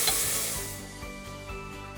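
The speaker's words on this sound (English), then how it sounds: "2 to 3 tablespoons of ginger garlic paste. I freshly made this one. Mix it well, cook it for 2-3 minutes." Ginger garlic paste mixed and cooked in a pan for mutton masala, with a brief bright hiss at the start that fades into a soft, steady sizzle and faint stirring, close and without talk.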